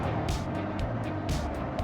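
A 1986–1987 Honda Civic CRX Si driving along with an overheating fault under test, giving a steady close engine and road drone with a few brief hissy swells from passing air or traffic, no voices.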